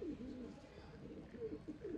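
Sialkoti high-flying pigeons coo in soft, repeated rolling calls at close range, several overlapping phrases over a low murmur of background noise throughout.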